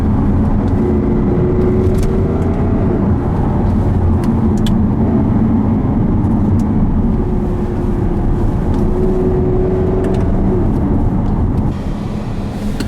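Jaguar XKR-S driving on a narrow Cornish road toward Lizard Point, with a steady, loud engine drone and road roar filling the whole stretch, no talking.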